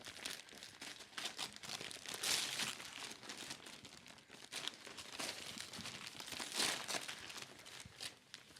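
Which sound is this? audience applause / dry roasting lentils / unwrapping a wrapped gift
unwrapping a wrapped gift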